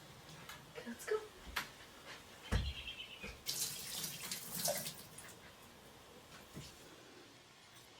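Water runs from an outdoor tap to water potted plants, a steady rushing flow with splashing that swells in the middle, heard fairly close with light background noise.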